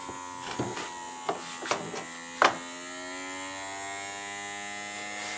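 Bihui pump suction cup for tiles with an electric piston runs close up after a few clicks and handling knocks, then settles into a steady motor buzz and hum that continues alone to the end.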